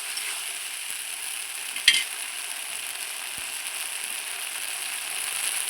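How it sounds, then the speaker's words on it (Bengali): Onions and spice paste sizzle steadily in a pan as they are stirred, with one sharp utensil clink against the pan and a faint scrape later, close and continuous. "পেঁয়াজের সঙ্গে মশলাটা দিয়ে খুব সুন্দর করে নাড়াচাড়া করে নিচ্ছি।"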